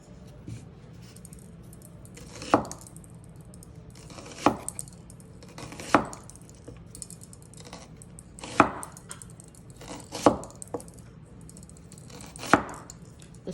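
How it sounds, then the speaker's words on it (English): A knife chops an onion into small pieces on a board, with sharp, separate knocks spaced a second or two apart over low background noise. "Let's go cut our onion."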